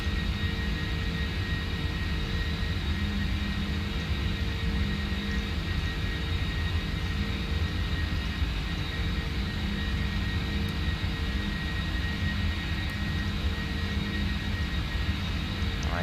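Simulated jet engines of a PMDG 747-400F cargo jumbo in flight make a constant, dense roar with a steady high whine, unchanging and close for the whole stretch, with no talking.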